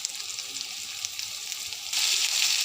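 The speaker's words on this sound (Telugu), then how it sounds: "ఇందులో కొంచెం అల్లం వెల్లుల్లి పేస్ట్, గుడ్లు కాబట్టి నేను కొంచెమే వేసానండి." Ginger garlic paste frying in a pan for an egg dish gives a steady broadband sizzle that grows louder and denser near the end, with no one speaking.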